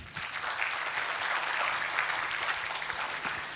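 An alumni audience at a law school homecoming and 15th anniversary claps together in a dense, even burst that holds steady, then thins slightly at the end.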